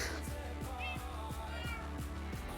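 Cats in the Minecraft video game, a hardcore superflat survival world, meow faintly under a steady low game hum with regular soft thumps, a couple of short mews standing out.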